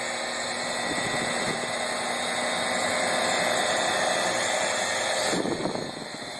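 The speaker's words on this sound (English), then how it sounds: "He's just basically pushing hard enough to keep the buffer wheel on the surface." A buffer wheel polishes oxidized gelcoat on a boat with light pressure, making a steady droning motor whine close by that holds evenly and then eases off near the end.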